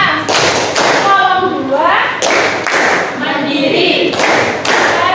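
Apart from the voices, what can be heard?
rhythmic clapping game Tepuk P5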